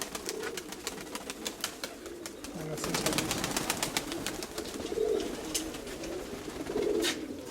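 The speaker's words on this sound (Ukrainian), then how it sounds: "оцей червоний голуб з жовтою." Soft, low cooing from pigeons repeats a few times over a steady background of bird chatter and light rustling, with no one speaking.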